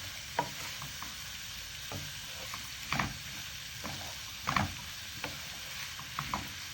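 Beef dopiaza with onions and tomatoes being stirred in a pan gives a soft, steady sizzle, with a spoon scraping and clacking at irregular moments, moderately close and without talk.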